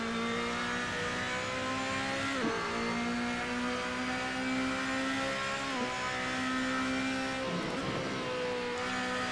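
Race car engine in an online racing game at Spa, revving steadily at high pitch with several quick gear-change dips as the car works through the corners, loud and continuous with no talk.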